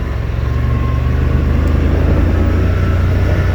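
Yamaha RMAX 1000 side-by-side engine running in crawl mode, a close, loud steady low drone with a strong rumbling hum that firms up slightly as the revs rise, no voices.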